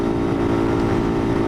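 Motorcycle engine, a Skymax, held at steady moderate revs during a ride, droning continuously and loudly up close with a strong low harmonic hum and no talk.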